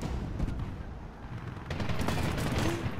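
Gunfire from a firefight in the video game Medal of Honor (2010), a dense rattle of shots that grows louder and busier partway through, with no talking.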